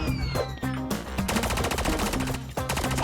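Rapid gunfire bursts from Call of Duty Mobile, repeated shots crackling loudly over a dense game soundtrack, with short pauses between volleys.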